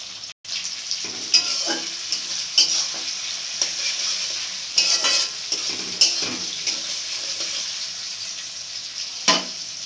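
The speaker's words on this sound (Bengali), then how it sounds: "পেঁয়াজটা লাল লাল করে ভেজে নেওয়ার পর এতে দিয়ে দেবো টমেটো কুচি।" Onions and chopped tomato fry in a pan for a home-made chicken biryani, with a steady loud sizzle broken by repeated scraping stirs of a spatula against the pan, no voices.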